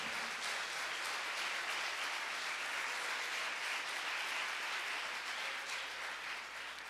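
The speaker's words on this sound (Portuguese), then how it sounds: "Pode aplaudir." Steady applause from a church congregation fills the space throughout, dense and even, ending after a sermon, with no voices over it.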